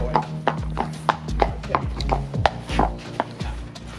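Hooves of a dirty horse clip-clop at an even walking pace on a hard wash-bay floor as it is led in, about a dozen close, distinct footfalls.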